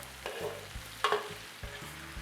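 Garlic sautéing in hot oil in a pot while cooking Ilocano-style goat kaldereta, with a soft steady sizzle broken by a few stirring knocks and scrapes, fairly faint and close.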